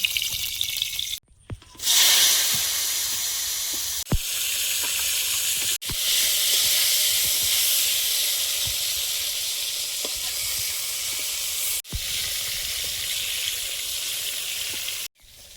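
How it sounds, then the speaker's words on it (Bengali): Eggplant slices sizzle steadily in hot oil in a pan, a continuous bright crackling hiss broken by a few brief pauses and sharp clicks, close and fairly loud with no talking. "বেগুনটা ভেজে নেব।"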